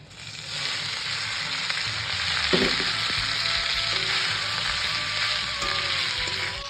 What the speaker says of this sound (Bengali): আগে পাস্তাটা ভেজে নেই